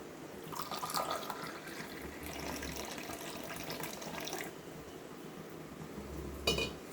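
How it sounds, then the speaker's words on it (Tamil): Strained homemade mango juice is poured into a tumbler, a soft trickling splash with faint drips and a light clink of the glass near the end. "இப்போ வடிகட்டினதை டம்ளரில் ஊற்றலாம்."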